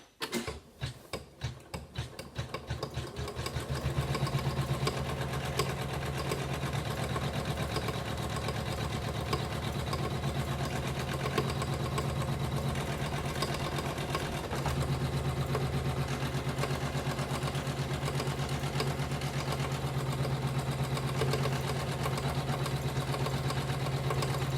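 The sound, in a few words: embroidery machine stitching basting stitch for appliqué letter W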